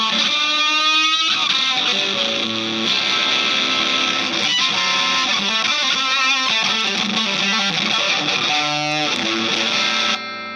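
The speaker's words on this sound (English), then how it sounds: "So that's just fuzz with a buffer in the chain." Electric guitar through a fuzz pedal with a buffer in the chain, dense saturated sustained notes and chords, loud and continuous with bending lines, cutting off abruptly at the end, no talking.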